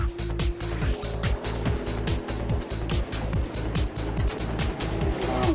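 Race cars lapping in the 24 Hours of Nürburgring endurance race roar past one after another, each engine note rising and falling quickly in a rapid, repeated sequence of loud close pass-bys.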